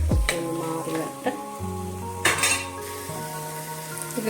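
Okra and green chillies frying in a pan: a low sizzle beneath metallic clinks and scrapes of a spoon against the pan, close by.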